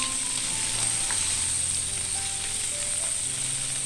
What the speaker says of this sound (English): we're going to saute it for 2 minutes on each side over medium-high heat